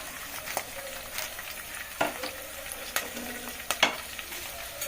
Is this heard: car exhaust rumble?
no